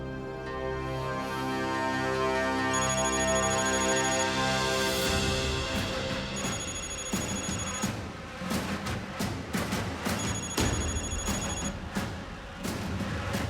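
A telephone rings repeatedly, an electronic trilling bell in steady bursts, loud and close, with no voices over it.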